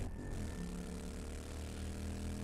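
A steady, droning helicopter engine in the survival video game 7 Days to Die, continuous and fairly loud with a low rumbling hum and an even rotor whir, heard alone.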